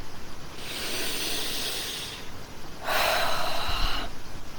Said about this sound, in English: Do some deep breathing.